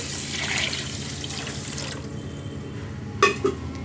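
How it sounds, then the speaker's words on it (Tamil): Measured water is poured into a pot of rice and lentils for pongal, giving a steady close gush that thins out, then two short sharp knocks near the end, with no one talking. "அதுக்கு நான் வந்து தண்ணி ஆல்ரெடி அளந்து வச்சுருக்கேன். நான் அப்படியே ஆட் பண்ணிக்கிறேன்"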